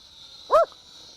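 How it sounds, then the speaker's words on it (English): A single short dog bark rings out close by, brief and sharp over a steady high-pitched drone hum from a Skytech M72 camera drone. "I'm going to move a little bit farther away from my dog so she doesn't make that noise"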